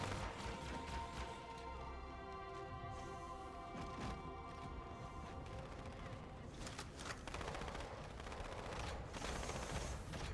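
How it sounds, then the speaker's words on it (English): Rapid bursts of battle rifle gunfire from Halo 2, in the Cairo level The Cartographer, crack out repeatedly in loud volleys with thuds and crashes of combat between the shots. "the battle rifle sounds so nice"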